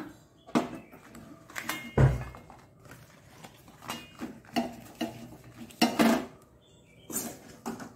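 Beans sukka, Mangalore style, is served with utensils knocking and clinking against dishes in a string of irregular close taps and thunks, several louder strikes among softer ones, with no talking.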